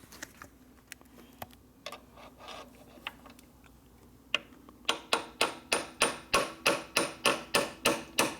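Light, scattered metallic taps at first, then a steady run of sharp hammer strikes on a metal punch, evenly spaced and close, during a Harley S&S 113ci Evo motor and 5-speed transmission rebuild.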